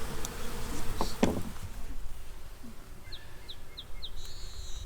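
A caged Saskatraz queen bee buzzes steadily close by, a continuous insect drone with faint bird chirps in the background.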